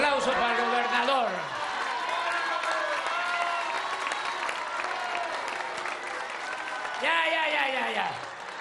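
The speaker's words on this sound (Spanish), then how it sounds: "Un aplauso para el gobernador." An audience claps and cheers for a governor at a rural hospital community gathering in Soto la Marina, Tamaulipas: sustained, dense applause from a crowd, with voices raised over it.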